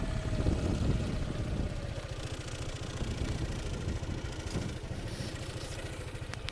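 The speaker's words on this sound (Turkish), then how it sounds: "Arkadaşlar bir motorumuzu çalıştıralım isterseniz." A Yamaha XMAX 250 Iron Max ABS scooter idles steadily up close, its engine putting out a continuous low, even rumble with light mechanical clatter and no voices over it.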